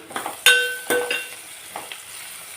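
Potato kurma pieces frying in a pan, with sharp spoon and metal clinks stirring through a soft, steady sizzle, close and fairly loud, with no talking.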